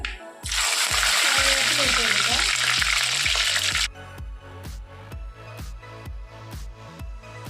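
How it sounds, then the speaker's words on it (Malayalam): Intense frying hiss for a few seconds, then stops, leaving rapid rhythmic clicking and small pops of mustard seeds in a hot pan. "അപ്പം നമ്മുടെ കടുക് പൊട്ടി വരുന്നുണ്ട്"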